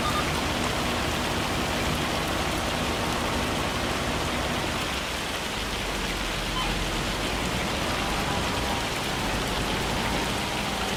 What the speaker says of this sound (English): Clear blue skies and hail.